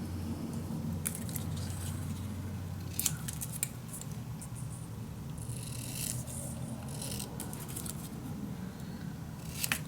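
Scissors snip through a leftover piece of paper, a close, quiet run of crisp cuts and rustling, with sharper snips spaced irregularly over a faint background hum.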